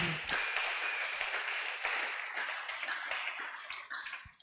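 A church congregation applauding during a worship service, dense continuous clapping from many people in a reverberant room, steady and fairly loud before tapering off slightly at the end.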